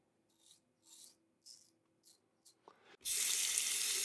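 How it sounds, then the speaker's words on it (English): Several soft rasping razor strokes give way to a loud, steady rush of running tap water as the head of a Dominus double edge safety razor is rinsed, close up with no talk. "Rinse the head out nicely."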